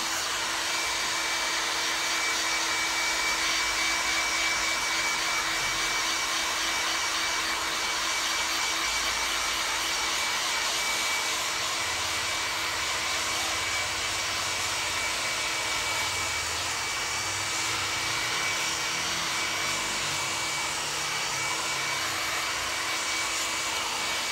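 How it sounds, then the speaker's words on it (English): A hairdryer blows hot air over a freshly dyed leather jacket, a loud, even, continuous whine and rush with a steady tone and no pauses. "Now go over with the hairdryer."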